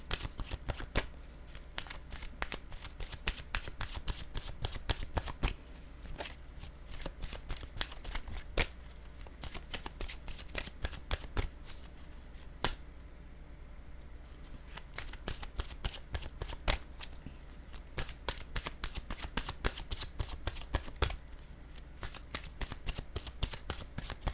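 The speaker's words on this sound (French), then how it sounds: "maintenant choisir une carte de mon oracle de l'âme intuitive pour cette personne" Oracle cards are shuffled steadily and close up, a continuous fluttering riffle of crisp card snaps that goes on without pause.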